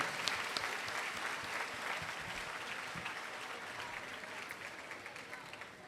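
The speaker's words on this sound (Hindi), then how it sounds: "हम अपनी पुरजोर तालियों में खुशामदीद कहेंगे" A crowd gathered for Holy Mass on the first day of an annual Marian pilgrimage gives a faint, distant round of applause, the clapping spread evenly and slowly thinning toward the end.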